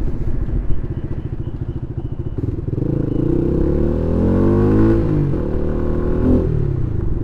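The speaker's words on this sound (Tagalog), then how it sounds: "Pino naman kasi tumunog yung makina nitong Flame 150X." A Flame 150X motorcycle engine idles with a steady low rumble, rising slightly in pitch midway as it revs gently, close and loud throughout.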